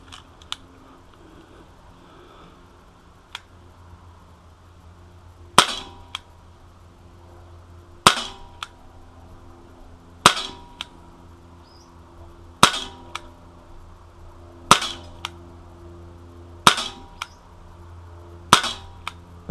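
Sharp, close cracks of a Sig Sauer P226 CO2 blowback pellet pistol in .177 caliber, fired at an indoor table top: about nine evenly spaced shots roughly two seconds apart, each with a quick metallic slide snap.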